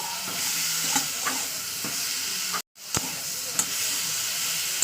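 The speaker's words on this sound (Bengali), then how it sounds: "লবণ হলুদটা দিয়ে আবার একটু কষিয়ে নেবো" Eggplant and fish curry sautés in a pan with salt and turmeric, giving a close, steady sizzle with repeated scraping stir strokes and one brief break in the sound.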